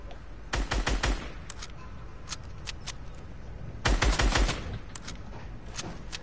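Rapid bursts of Brutus minigun fire in a Fortnite duo squads match, with two dense rattling volleys around the first second and near the four-second mark plus scattered single shots between, loud against steady background noise.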